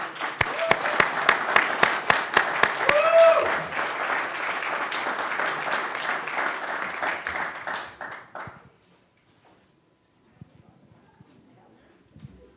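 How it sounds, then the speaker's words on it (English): Applause from the audience at a university business prize competition as a finalist is called to the stage, a dense sustained clatter of many hands lasting about eight seconds before fading out, with faint room noise after. "Round of applause"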